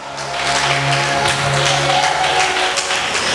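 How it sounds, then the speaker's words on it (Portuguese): A church congregation applauding loudly during a revival service, dense clapping spread evenly over sustained musical tones from instruments or singing. "Vai aplaudindo bem forte"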